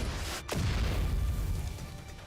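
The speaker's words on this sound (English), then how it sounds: "There is a cacophony of noise as Snow White's gunfire melts with the artillery fire" Artillery fire in the video game Overzone, a single deep boom that rumbles and decays into a low, noisy roar lasting a couple of seconds.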